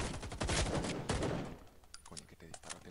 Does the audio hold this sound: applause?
no